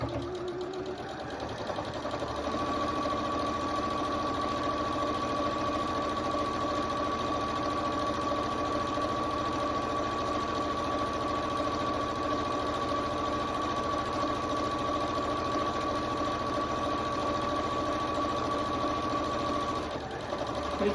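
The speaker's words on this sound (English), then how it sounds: "I'll just sew this really quickly." A sewing machine stitches about 1/8 inch from the edge around a photo ID pouch, running as one loud, continuous, even whir that holds a steady tone for nearly twenty seconds before stopping.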